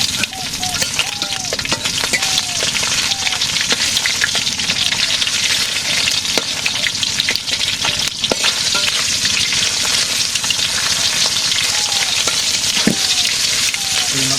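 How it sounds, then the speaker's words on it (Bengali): Fish sizzling and frying in a pan in a village kitchen, a steady crackling hiss throughout with occasional stirring clinks, close and continuous. "মাছটা একটু বেশি করে ভাজবো"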